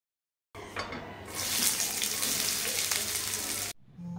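Cold tap water runs steadily from a kitchen faucet over freshly boiled pasta in a strainer, a continuous broadband rush lasting about three seconds, close and fairly loud, with no talking.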